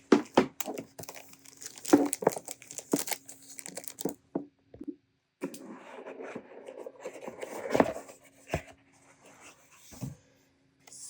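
Stationery packaging being unwrapped close up: bursts of crinkling and tearing paper or plastic, irregular and sharp, with a short pause, then softer rustling and a few crisp crackles.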